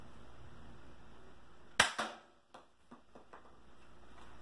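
A Nerf Dual blaster fires an Elite foam dart with one sharp snap, followed by a few faint ticks and clicks in a quiet room.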